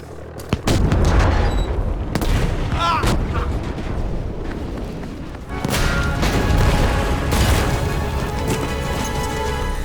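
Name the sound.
bombs exploding in video game Battlefield V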